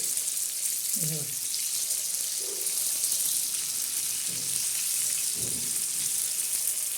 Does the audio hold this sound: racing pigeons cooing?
no